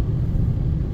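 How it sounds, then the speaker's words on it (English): Steady, loud motorway traffic heard from a moving car, a continuous low engine and road rumble with no break. "This is the motorway."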